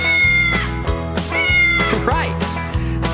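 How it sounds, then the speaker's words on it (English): A cat meows repeatedly and loudly, several drawn-out mews in quick succession over a steady rhythmic musical backing in a children's farm animal song. "Right, the cats go"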